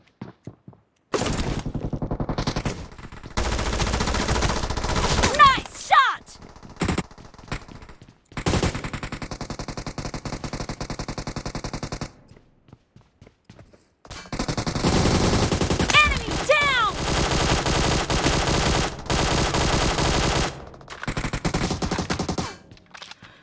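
Rapid automatic gunfire from a PUBG Mobile match, loud close bursts repeating in clusters with short gaps, alongside other game sounds and brief lulls of near silence.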